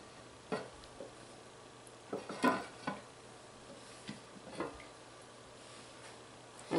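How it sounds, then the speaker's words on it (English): A batch of lard lye soap gets a quick stir, heard as scattered soft knocks and scrapes of the utensil against the pot, faint and close. "I'm just going to give everything a quick stir"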